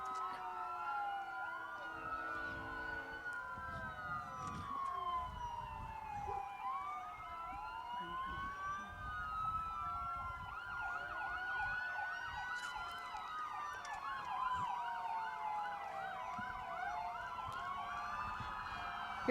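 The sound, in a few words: emergency vehicle sirens at a parade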